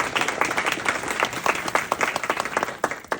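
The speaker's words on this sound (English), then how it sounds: "put your hands together for yourself." A live audience at a speech competition applauds, a dense patter of many hands clapping steadily and close for several seconds with no pause.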